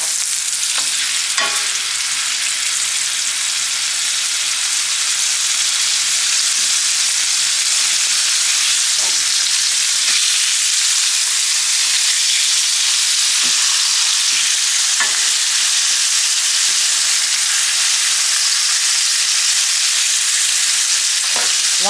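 A porterhouse steak sears loudly in a hot pan and is flipped over, giving a dense continuous sizzle with scattered crackles and pops throughout.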